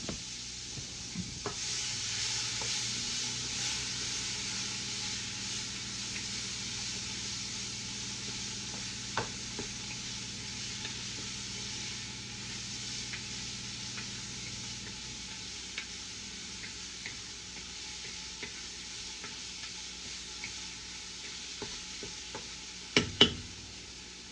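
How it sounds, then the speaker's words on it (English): A spoon works through a pot of beef stew soup with meat, giving soft scraping and light ticking strokes over a low simmering hiss, quiet and close, ending with a couple of sharper clinks. "Let me stir this around. The meat around."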